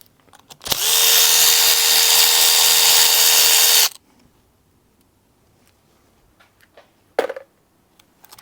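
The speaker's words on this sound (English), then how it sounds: "I'm going to go ahead and loosen the bearing cap bolts too." A power tool whirs at a high, steady pitch for about three seconds while loosening bearing cap bolts on a Yamaha 115 two-stroke outboard, then stops abruptly, followed by a quiet pause and a short metallic clatter.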